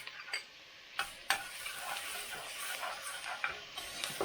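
Chopped garlic frying with onion, carrots and celery in a soup pot for chicken noodle soup, a steady close sizzle with a few sharp stirring clicks against the pot.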